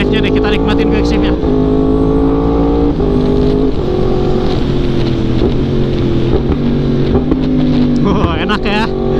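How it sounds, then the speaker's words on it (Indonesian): Yamaha R1M motorcycle using its quick shifter: a loud engine roar rising and dropping through several quick gear changes, with steady wind rush over the microphone and a rider's voice at times. "Quick shift-nya deh, kita nikmatin quick shift-nya."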